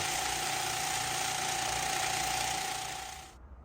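A vibratory rock tumbler with a newly fitted motor, a Raytech unit, runs with a steady, dense mechanical hum and a constant rattling buzz, fairly loud and unbroken, until it stops abruptly near the end.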